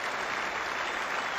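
A big cricket crowd at the WACA applauds during a 1986-87 Australia vs Pakistan one-day match, giving a short, dense burst of clapping at a steady level.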